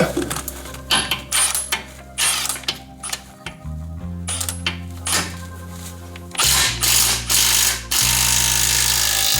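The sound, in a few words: ratchet pulling bolts during leveling kit install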